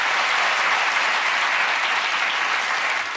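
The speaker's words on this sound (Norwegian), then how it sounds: "Det synes jeg fortjener en skikkelig applaus" A studio audience at a Norwegian talk show breaks into loud, dense, continuous applause that holds steady throughout.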